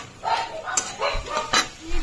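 A spatula scrapes and stirs chicken and capsicum in a pan. The scraping comes in irregular strokes, with some clinks of utensil on metal and a faint sizzle underneath.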